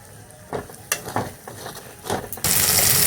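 Spice masala for egg pepper fry cooks in oil on low flame, with a spoon scraping and stirring in irregular knocks before a loud, steady sizzle bursts up near the end.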